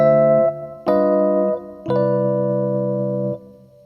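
Three sustained jazz piano chords forming a II-V-I progression in a major key with an altered dominant seventh, each struck cleanly and held, the last ringing longest, with no voices.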